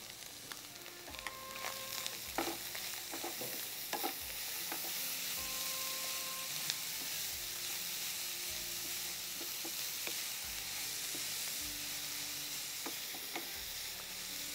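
Cabbage and carrot sautéing in a pan with chilli powder, a steady close sizzle throughout with scraping stir strokes and light clicks, no voices.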